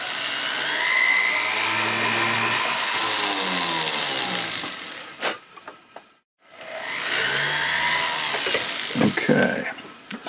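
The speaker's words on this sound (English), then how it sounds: "To do that, I use one of my long flame tip burrs." A rotary tool fitted with a 1 mm long flame tip burr grinds on silver with a continuous high whir. It stops briefly, then starts again, with light handling noises underneath.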